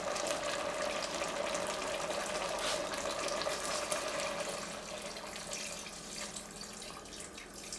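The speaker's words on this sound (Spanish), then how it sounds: "Ahora vamos a agregarle agua o caldo" Water or broth pours steadily into a pot of browned lamb stew, a soft continuous splashing stream with faint sizzling beneath, quiet and without talk.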